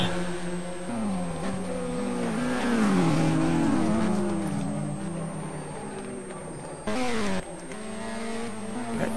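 BMW and Honda touring race cars racing on the Guia street circuit in Macau, engines revving and shifting through gears close by, with a brief tyre squeal, under rapid Portuguese race commentary.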